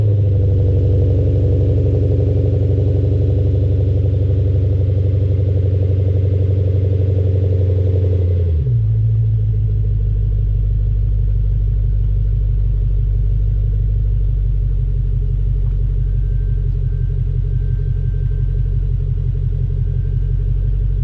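Lexus RC F fitted with an ARK Performance exhaust, idling with a deep, steady low rumble that briefly dips and shifts in tone partway through, then settles into a slightly rougher idle.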